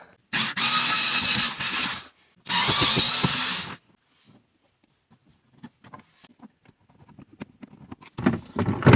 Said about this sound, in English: So I'm going to go ahead and unscrew these, and then we'll drop the box.